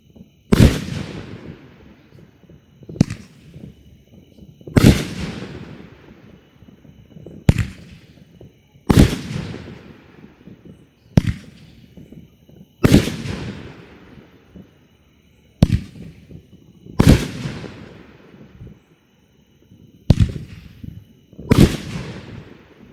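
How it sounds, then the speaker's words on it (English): Bacon King, an 18-shot firework cake by No Name, fires in a backyard show: about a dozen loud, sharp bursts come at irregular intervals of one to three seconds, each with a rumbling, crackling tail. "All right, we got Bacon King by No Name. 18 shots."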